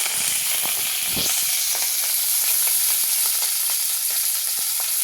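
Curry leaves hit hot oil already popping with mustard and cumin seeds in a pan, giving a loud steady sizzle with scattered pops and crackles, close up, with no talking.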